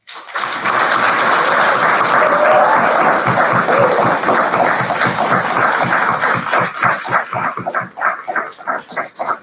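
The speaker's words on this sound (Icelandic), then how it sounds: "gefa þeim gott klapp." Graduates standing at a graduation ceremony receive a long, dense round of clapping from the audience. It starts suddenly and stays loud, then thins into scattered individual claps toward the end.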